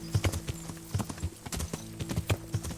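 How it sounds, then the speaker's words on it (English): Horses clip-clop across the ground in the medieval game Kingdom Come: Deliverance, a steady run of hoof beats close by with a low droning tone underneath. "That's a lot of horses."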